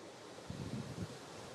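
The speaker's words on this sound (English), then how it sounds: "you can probably hear the rushing of water" Water rushes past an old water wheel beside massive flagstones, a steady low roar of broadband noise that swells briefly in the middle, with no voices.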